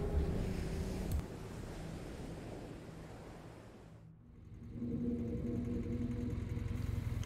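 A car engine at night turns over after a brief lull and settles into a steady, droning rumble with a low hum, heard over a broad windy wash.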